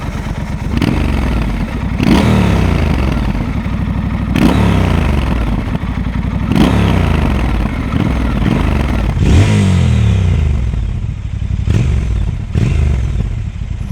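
A Triumph Scrambler 1200 XC motorcycle engine is revved repeatedly, each blip rising and falling as a loud, close, rumbling growl with some mechanical clatter. There is no talk.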